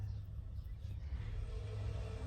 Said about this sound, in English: Go on, get your car up the hill.